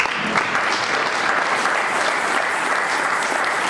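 A church congregation bursts into steady, dense applause, many hands clapping together at a close, even, sustained level with no letup.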